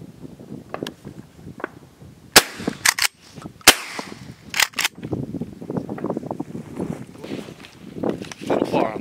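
Shotgun blasts ring out during an outdoor dove hunt, several sharp loud reports spread across the moment, with rustling, footsteps and people talking in between.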